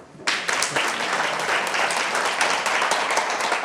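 An audience at a political lecture breaks into applause: dense, lively clapping starts abruptly and carries on evenly, loud and close, until the end.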